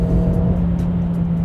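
Renault Clio RS 200 with a 1.6 turbo engine pulling under acceleration, a loud steady low engine drone with a constant tonal hum from inside the cabin, no talk.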